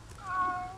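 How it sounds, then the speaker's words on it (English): A single short cat meow in the video game Aliens vs. Predator 2, clear and close over a low background hum. "There's a cat!"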